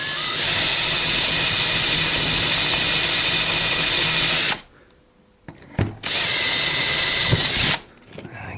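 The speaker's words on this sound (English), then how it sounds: "Aluminium does gum up the drill bit." Power drill boring through an aluminium rail, a loud steady whining grind for about four and a half seconds, a brief pause, then a second sustained burst of drilling before it cuts off.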